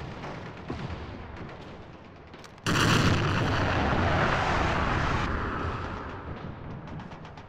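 A 203 mm howitzer fires in a Battlefield game: one sudden, heavy blast breaks over quieter battlefield ambience, then a long, loud rumbling roar that slowly fades.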